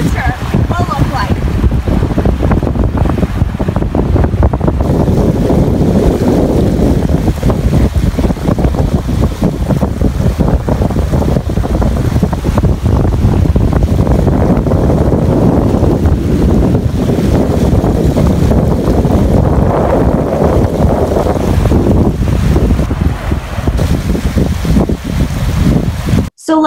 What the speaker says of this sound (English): that water is absolutely gushing into the park, flooding it beyond belief